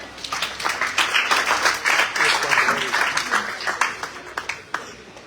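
An audience at a school poetry recitation competition claps to welcome a participant to the stage, an uneven crackle of many hands, loud and close, thinning into scattered separate claps toward the end.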